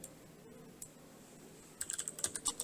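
Typing a build command at a computer keyboard gives a quick burst of close, crisp key clicks in the last second, after a quiet stretch of low room hum.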